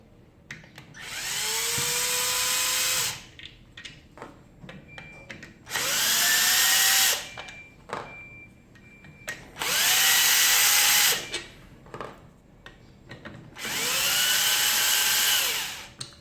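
A cordless electric screwdriver whirs in four separate bursts of about two seconds each, rising to a steady pitch and then stopping, as it backs out the four bolts on a Tiger King vacuum cleaner motor housing. Nobody speaks.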